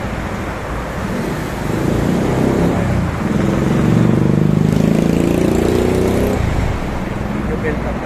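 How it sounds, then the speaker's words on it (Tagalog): Road traffic building up on a Philippine street, a continuous rumble of cars and motorcycles with engines swelling louder in the middle, someone speaking over it. "Medyo build up na ng konti traffic dito sa lokasyon na ito."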